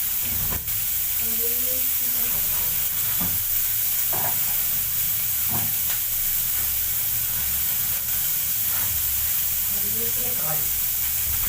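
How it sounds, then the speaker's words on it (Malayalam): Finely chopped onions sautéing in hot oil in a home kitchen, a steady hiss of frying with occasional scrapes and clinks of a spoon stirring the pan, moderately close. "ഉള്ളി ഇട്ട് കൊടുക്കാം അത് നന്നായി ഒന്ന് വഴറ്റി വരണം"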